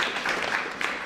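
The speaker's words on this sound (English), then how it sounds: "give yourselves a big round of applause" Crowd applause at a history day event, a dense steady patter of many hands clapping, moderately loud and continuous throughout.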